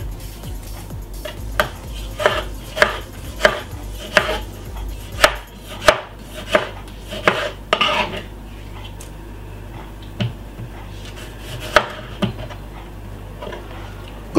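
Two medium tomatoes being chopped very finely with a knife, sharp repeated knife strikes on a board, clustered at first and then sparser, close and distinct with no talking.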